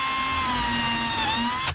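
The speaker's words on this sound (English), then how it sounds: "with everything positioned, I can start drilling" A power drill fitted with a 9mm brad point bit bores holes in a woodworking workpiece set against flag stops, giving a steady high whine that cuts off abruptly at the end.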